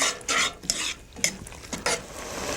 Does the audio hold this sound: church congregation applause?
no